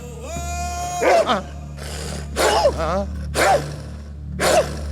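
Someone imitates a barking dog with several loud, rough, voiced bark-like bursts spaced about a second apart, close and prominent over a steady low background hum.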